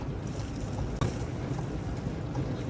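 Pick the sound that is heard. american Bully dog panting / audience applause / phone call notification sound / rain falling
rain falling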